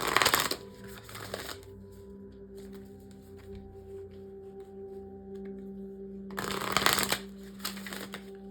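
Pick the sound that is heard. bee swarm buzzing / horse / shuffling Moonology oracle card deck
shuffling Moonology oracle card deck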